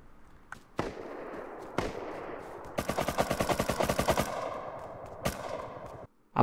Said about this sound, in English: Bunch of shots around and inside of this compound.